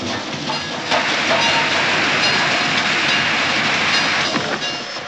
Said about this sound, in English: There is a lonely train called the 310 to Yuma